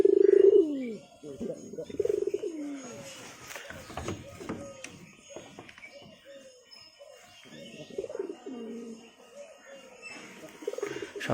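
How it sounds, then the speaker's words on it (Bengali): Pigeons released from their coops at home coo and call in low throaty bursts, fairly close and intermittent, with some rustling and background noise, no talk. "সব পায়রা খোপগুলো খুলে দিলাম। তো পায়রাগুলো এখন বাড়াবে।"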